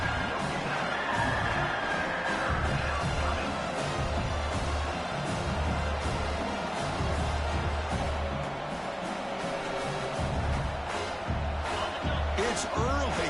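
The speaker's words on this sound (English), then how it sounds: "It's early, but this crowd is fired up. Listen to this noise here." A college football stadium crowd roars in a continuous, loud wash of cheering, with a commentator talking over it throughout.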